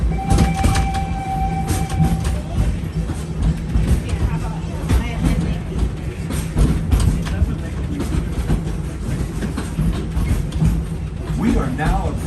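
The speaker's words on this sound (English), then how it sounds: "We are now approaching the Harambe train station." The Disney's Animal Kingdom train approaches Harambe station with a steady, loud rumble and clatter of rail cars that continues without a break.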